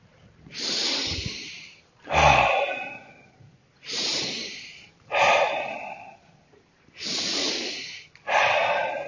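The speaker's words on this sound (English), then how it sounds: "Make it a strong, full breath from a relaxed place." Strong, full breaths during a guided breathwork exercise come in six forceful cycles. Sharp, hissing inhales alternate with long, rushing exhales, close and loud, with no talking.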